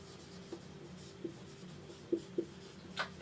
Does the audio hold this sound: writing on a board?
yes